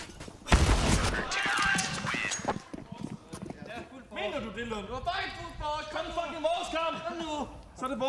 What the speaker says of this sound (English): There are a couple of pot shots coming his way.